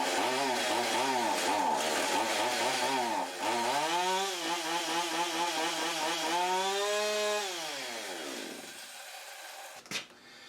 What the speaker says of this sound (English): So the chainsaw is working.